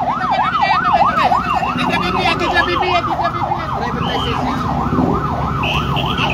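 A loud wailing ambulance siren sweeps up and down in a fast, regular cycle, close by, with traffic noise and scattered voices underneath, at a road accident scene in Naic, Cavite.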